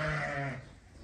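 A single short bleat from sheep or lambs in a flock of ewes with lambs offered for sale, close and fairly loud, fading out within about half a second.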